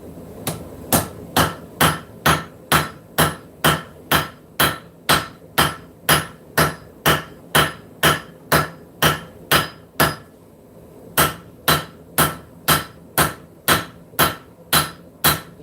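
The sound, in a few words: forging hammer striking hot steel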